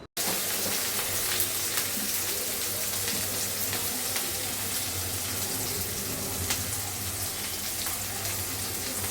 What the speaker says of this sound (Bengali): ভালোভাবে পেঁয়াজ কুচি এবং শুকনা মরিচ কুচিগুলো তেলে সুন্দর করে ভাজা ভাজা করব